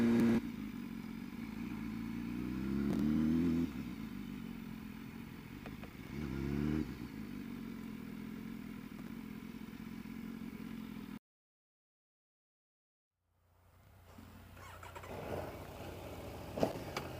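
A 2019 Aprilia Tuono 1100 Factory motorcycle is ridden, its engine droning steadily with two rising revs, then the sound cuts out briefly before the engine and wind noise return more faintly.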